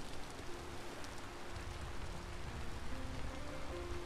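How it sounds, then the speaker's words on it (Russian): Steady soft rain in the video game Vintage Story hisses evenly throughout, a dense patter with no pauses and no voices. "Погода прекрасная, дождик идет"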